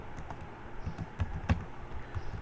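Keys on a computer keyboard are typed in an uneven run of close, crisp clicks, quiet and without speech.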